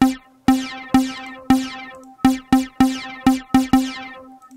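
A synth stab made in Massive with a Dimension Expander repeats in an uneven rhythm, each hit bright and sharp with a quick decay, sounding wide and spacious.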